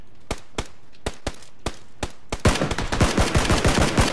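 First-person shooter gunfire: sharp single shots spaced at a steady beat, then a dense burst of rapid automatic fire, loud and close with no talk.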